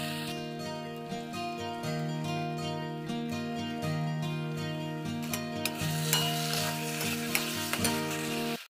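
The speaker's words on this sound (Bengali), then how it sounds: "তো আলুটা ভালো করে ভেজে নিচ্ছি" Potatoes frying with tomato and spice paste in a home kitchen, a loud continuous sizzle with steady scraping and clinking of a spoon stirring in the pan, running unbroken throughout without talk.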